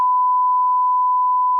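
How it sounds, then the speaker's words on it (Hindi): A steady, pure censor beep tone runs unbroken for the full length, covering abusive words in a news interview, alone with no other sound. "यहाँ पे वो गाली चल रही है तो बीप लगाना पड़ा"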